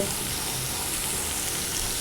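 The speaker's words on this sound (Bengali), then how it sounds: "তার আগে একটু জিরে ফোড়ন, কাঁচা লঙ্কা ফোড়ন দিয়ে নিয়েছি, ভাজা হয়ে গেছে" Cumin seeds and green chillies sizzle steadily in hot oil, a continuous close crackling hiss with no talk over it.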